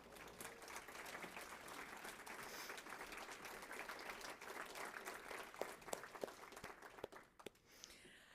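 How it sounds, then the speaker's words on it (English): Faint, distant applause from a seated audience at a university awards and calendar recognition program, sustained for several seconds with a few sharper individual claps standing out near the end. "So if you guys would stand up, we'll give you a round of applause as well."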